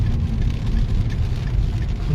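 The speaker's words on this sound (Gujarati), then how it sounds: "આ તમે જોઈ શકો છો લાઈવમાં વીજળી સાથે વરસાદ પડી રહ્યો છે" Heavy rain pours steadily on the Halvad–Morbi highway during a lightning storm, a dense, continuous wash of noise with a deep low rumble underneath, no distinct thunderclap standing out.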